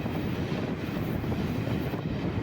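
A train arrives at Mayyanad railway station in Kollam district, a steady, loud, broadband rumble that runs unbroken throughout with no voices.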